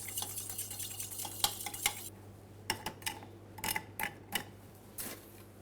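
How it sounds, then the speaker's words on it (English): Spoon clinking against glass as a cocktail is stirred to dissolve caster sugar with lime cordial for a martini, a quiet run of light, irregular ticks and taps close by. "I'm going to give a little stir to dilute the castor sugar"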